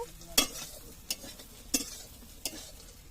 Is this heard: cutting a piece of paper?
no